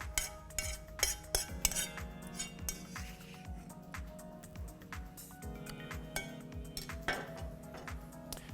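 A metal spoon clinks repeatedly against a pan or dish while handling freshly cooked scrambled eggs: bright, close, irregular taps and scrapes over a faint steady hum.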